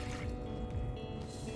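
Warm water pours steadily into a container for two cups of sweet dough bun mix, a continuous close splashing rush with no voices.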